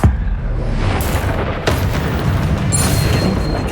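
Confringo explosion spell in the video game Hogwarts Legacy, a sharp loud blast up front followed by further booming bursts and a rumbling, crackling tail, with no talking.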